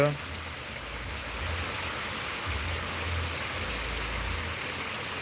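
Heavy monsoon-style rain pours down steadily, a loud, even hiss of falling water with a low rumbling undertone, continuous and close throughout.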